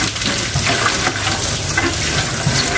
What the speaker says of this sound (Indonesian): air mengalir seperti ini.